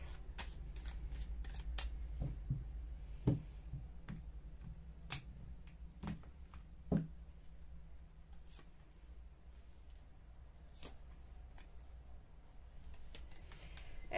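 Baralho Cigano fortune-telling cards are shuffled and tapped in a quiet room, giving a series of crisp riffling flicks and soft slaps at an uneven rhythm, fairly close and alone.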